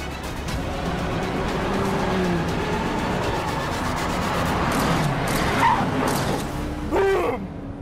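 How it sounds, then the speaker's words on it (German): A Porsche 911 Carrera S pulls away hard at a race start, its engine roaring close and loud with tire squeal and other cars nearby, the sound rising then cutting off at the end. "Der Porsche zieht weg wie eine Rakete."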